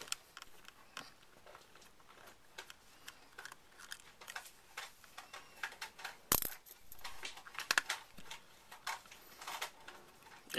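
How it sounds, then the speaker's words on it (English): Tiny tri-wing screws coming out of a Nintendo DS shell during a hinge repair: faint ticks and light metallic clicks scattered irregularly, with a few sharper taps as screws are set down, close and quiet. "So go ahead and remove those screws."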